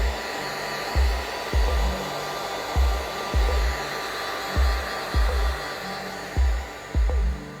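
Heat gun warming a fuel line clamp fitting on a fuel tank bulkhead of a Nissan S14, a steady close blowing roar with a low rhythmic thump repeating about every second underneath.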